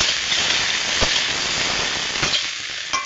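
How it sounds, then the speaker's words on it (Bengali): Cauliflower frying in a pan over a wood-fired clay stove, giving a loud, dense, continuous hiss with a few faint knocks, close and alone. "আর এখানে মাছের ঝোল রান্না করার জন্য আমি প্রথমে ফুলকপিগুলো ভেজে নিচ্ছি।"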